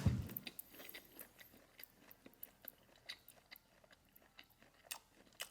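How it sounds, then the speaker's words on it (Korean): Close, soft wet chewing of pork belly dipped in ssamjang, with quiet rhythmic bites and smacks in an otherwise hushed setting. "그러면 삼겹살을 먹어보도록 하겠습니다."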